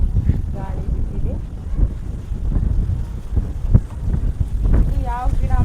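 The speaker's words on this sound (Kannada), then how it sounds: "ನೋಡ್ರಿ ಗಾಳಿ ಬಿದ್ದಿದೆ." Outdoor wind buffets the microphone in a garden among brinjal plants, a constant low rumbling roar with voices talking over it.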